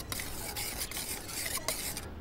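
A kitchen knife for chopping meat and vegetables is sharpened with steady, rasping strokes, a continuous gritty scraping that fills the moment up close with no talking.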